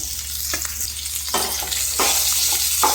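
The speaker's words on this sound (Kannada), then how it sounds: "ಚೆನ್ನಾಗಿ ಫ್ರೈ ಮಾಡ್ಕೊಳ್ಳೋಣ" Onion, ginger, garlic and tomato fry in oil for a spicy fish gravy, a constant close sizzle broken by several sharp scrapes of a spoon stirring against the pan.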